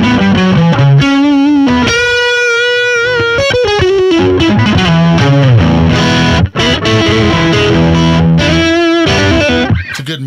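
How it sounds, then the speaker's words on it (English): An electric guitar played through an Azor distortion pedal with a Marshall-style crunch, a loud riff of chords and single-note lines with sustained gritty tones, alone without talk. "It's a good Marshall-esque kind of sounding distortion."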